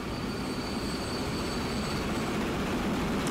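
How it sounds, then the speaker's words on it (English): A train rolling into a station in the rail simulation game Transport Fever, a steady broadband rumble with faint squealing wheels, constant and moderately quiet, no voices. "As another train comes in"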